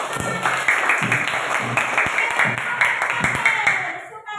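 A classroom of students in Indonesia applauds with steady, fairly rhythmic hand claps that run through most of the moment and then fade. Voices murmur and call out beneath the clapping.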